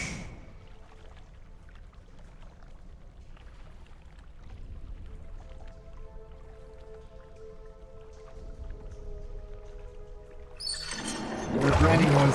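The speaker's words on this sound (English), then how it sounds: "The grinding noise beneath your feet and the rush of water." Water rushes steadily over a low grinding rumble beneath the player's feet in the video game Pillars of Eternity, with a sharp, louder splashing burst near the end.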